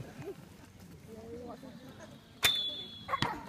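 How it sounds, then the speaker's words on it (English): Whistling arrows loosed from a yew longbow sound as two sharp, brief releases with a high whistle, the second about a second after the first, over quiet outdoor background. "Aren't those whistling arrows really nice?"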